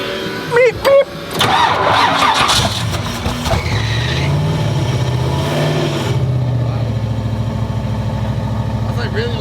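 A car engine cranks and fires up in a workshop, then settles into a loud, rumbling idle through the exhaust, with voices talking over the start.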